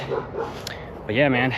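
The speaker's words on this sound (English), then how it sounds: "Sorry about the dogs in the background." Dogs bark and yelp in the background while someone talks nearby. A short, higher whining bark rises near the end.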